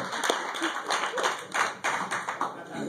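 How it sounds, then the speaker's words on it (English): Audience applause at a stand-up comedy show, a dense, steady patter of many hands clapping close by for about three seconds with no voices over it. "Let's get a round of applause for all the comedians currently on stage."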